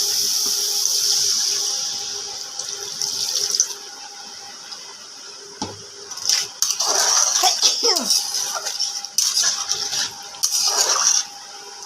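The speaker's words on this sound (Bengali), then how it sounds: "জল দিয়ে দেবো" Water pours into a pan of prawn curry with a steady splashing wash, followed by stirring clinks and scrapes of a utensil against the pan and further bursts of liquid movement.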